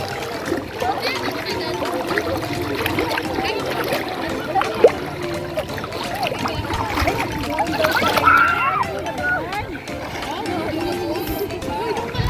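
Sea water splashes and churns at a beach in Morong, Bataan, a steady wash of splashing throughout while people, including children, talk nearby.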